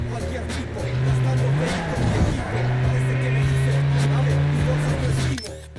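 A car engine in the video game Midnight Club: Los Angeles drones at a steady, raised pitch, revving up and dipping once before holding a sustained roar, with a voice talking over it.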